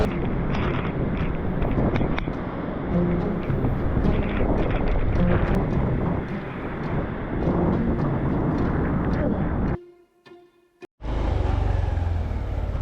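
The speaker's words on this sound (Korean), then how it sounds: "벌써 지금 바람이 약간 심상치가 않아요" Strong gusting wind buffets the microphone while riding a motorcycle on a touring trip across Japan ahead of a typhoon, a loud continuous roar that drops out briefly near the end before returning.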